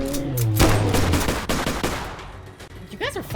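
Gunfire in the video game Bigfoot cracks out as a quick burst of sharp shots. Excited voices talk over the action.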